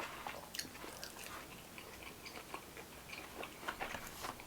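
Crunchy fried pork bitten and chewed close up, with a string of small crisp crackles and crunches over soft background noise.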